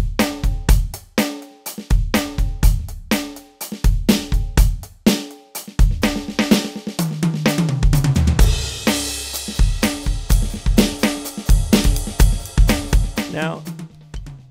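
An electronic drum kit (TD-15 module, TL Basic patch) played as a groove, with punchy kick and snare hits, steady cymbal strikes and a busy fill midway, loud and close with no voice.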